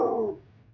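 A person imitating a monster roar, a single short growling vocal burst that trails off within a second, close and fairly loud.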